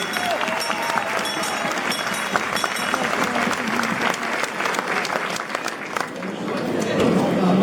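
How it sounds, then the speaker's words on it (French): Crowd applause during the Malmedy carnival, steady clapping from a large audience swelling toward the end, with a voice speaking over it. "On peut les applaudir."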